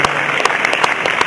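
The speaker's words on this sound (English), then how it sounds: "Give them a big round of applause." Loud, close applause from an audience, dense continuous clapping with a few sharper individual claps standing out.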